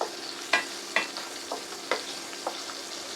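A spoon stirs a Bengali fish curry with potatoes in a pan, giving several sharp scraping strokes at an uneven rhythm over a low background sizzle, close and clear with no talking.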